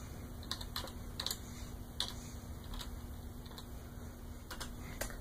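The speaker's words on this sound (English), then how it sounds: "we type in a certain command" A computer keyboard clacks as a command is typed into a root terminal, with irregular quick keystrokes and short bursts of taps, close and moderately quiet over a faint steady hum, with no talking.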